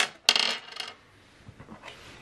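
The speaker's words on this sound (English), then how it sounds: "my dice are rolling off my lap" Dice roll off a lap during a card reading, giving a quick bright clatter as they land, then a few softer knocks and small rattles as they settle, close and with no talk.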